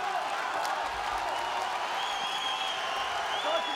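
Arena crowd at a WFC MMA event roars and applauds steadily as a fighter pours on pressure after a restart, a dense, continuous wash of cheering and clapping from all around.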